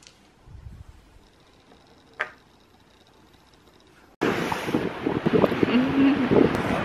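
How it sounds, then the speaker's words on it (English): Wind gusting along the Welsh coast, starting to rain, begins suddenly midway as a loud, blustery roar buffeting the microphone, after a quiet stretch with faint clatter and a brief voice. "It is windy and it's starting to rain."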